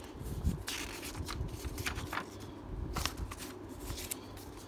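The paper booklet from a VHS tape case is handled with quiet, continuous rustling and a few crisp page flicks, close by and faint.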